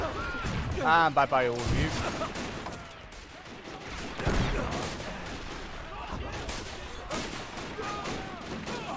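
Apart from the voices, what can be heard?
grenade explosions and gunfire in video game Great War Realism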